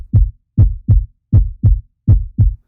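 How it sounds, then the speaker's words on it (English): Loud, close heartbeat thuds arrive in paired lub-dub beats, repeating at a steady pace with silence between each pair. "I remember hearing my heart beating in my ears,"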